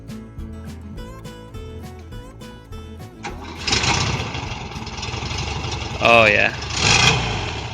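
A 1973 VW Bus TinTop engine, with freshly repaired starter wiring, cranks and catches partway through, then runs with an uneven, rattly idle and a couple of revs. A person briefly speaks near the end.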